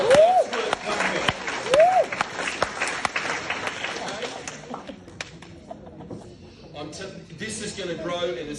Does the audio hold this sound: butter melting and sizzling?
no